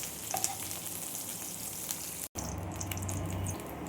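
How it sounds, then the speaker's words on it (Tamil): Onions sautéing in a kadai for mutton chukka gravy, a steady close sizzle with faint stirring scrapes that runs continuously, broken by a very brief cut partway through. "2 நிமிஷம் நல்லா வதக்கிக்கலாம்."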